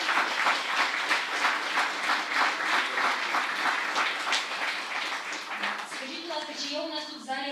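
At a rehabilitation forum in Lviv, the audience applauds a patient fitted with a bionic arm: dense, lively clapping from a full room that gradually thins out, after which a voice begins speaking.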